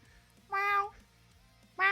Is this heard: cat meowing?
yes